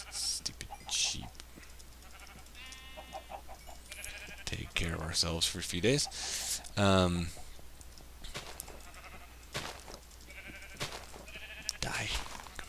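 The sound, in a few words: sheep bleating in video game Minecraft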